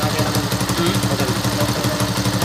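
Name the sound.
motorcycle engine idling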